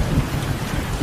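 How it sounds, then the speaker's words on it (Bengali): Rain falling on the roof of a house at night during the monsoon, a dense, steady patter with a deep rumbling undertone, loud and close, lasting only a moment with no voices. "শুধু ঘরের চালের উপর বৃষ্টির জল পড়ার শব্দ শোনা যাচ্ছিল।"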